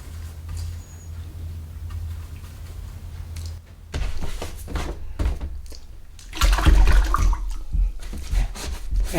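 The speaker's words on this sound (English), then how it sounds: "And now I'm going to mix up some really wet paint." Very wet watercolor paint being mixed with plenty of water, soft close sloshing and dabbing of a brush in liquid, growing busier and louder toward the end, with no talking.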